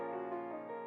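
A sustained, slightly detuned keyboard chord holds steady, a pitch-shifted keys sample played from an MPC X pad, ringing alone without any talking.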